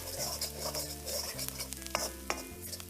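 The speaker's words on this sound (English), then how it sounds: "we will stir fry this for about 15 to 20 seconds in high flame" Chopped garlic and green chili stir-fry in a pan over high flame, a constant sizzle with a spatula scraping and clinking against the metal, close and steady, over a low hum.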